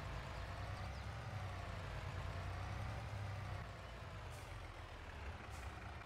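A truck in Farming Simulator 22 arrives to deliver a new tractor, its engine rumbling low and steady throughout, with faint brief hisses late on and no talk.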